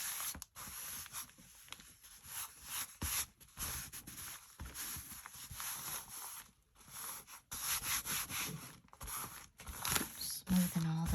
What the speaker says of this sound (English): Just press that in and give it a little ironing with my hand.